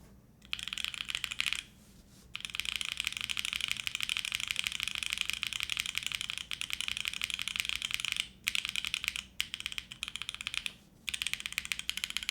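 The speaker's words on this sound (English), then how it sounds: "So let's give you guys a little HJ keycap test." Typing on a SAAG65 mechanical keyboard fitted with GMK Darling keycaps, a steady close run of crisp clacky keystrokes with a few brief pauses, no voices.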